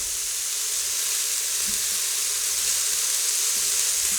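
Pork sizzling and frying inside an Instant Pot pressure cooker, a steady, loud hiss of hot fat that carries on unbroken, with faint stirring and scraping sounds underneath.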